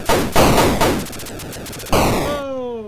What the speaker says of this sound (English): You gotta watch out for their splitting fire.